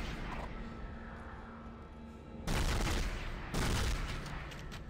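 Gunfire from Dead Space: after a stretch of low ambient rumble, two loud sustained bursts of rapid shots hit in quick succession, each roughly a second long and close up.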